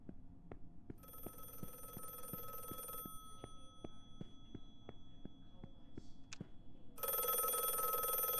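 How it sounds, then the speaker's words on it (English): An old-style telephone bell ringing in the detective video game The Last Case of John Morley, repeated rapid bell pulses over steady ambient game sound, moderately close, with brief noise bursts near the end. "Are you ringing me again, Margaret?"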